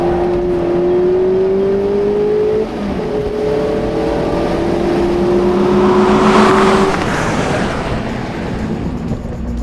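A Mazda MX-5 Miata drives hard on a damp racetrack, its engine droning loud and steady with a shift or lift partway through, then pulling again as tires hiss on the wet surface.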